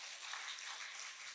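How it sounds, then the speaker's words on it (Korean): Church congregation applauding together, a steady broadband patter of many hands clapping at once, fairly quiet and even throughout with no voices over it. "박수 한번 쳐주세요"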